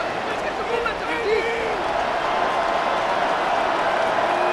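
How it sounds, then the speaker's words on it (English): Broad, steady roar of a stadium crowd in the Madden NFL 26 football game during a Giants versus Steelers two-point conversion, a sustained wash of noise with faint whistles and cheers. "Listen to this crowd."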